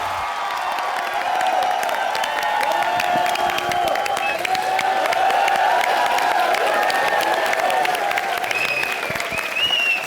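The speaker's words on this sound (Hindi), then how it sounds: "जोरदार तालियां।" A studio audience at an Indian TV comedy show breaks into loud, sustained applause with some cheering, a dense wash of clapping that holds steady for about ten seconds.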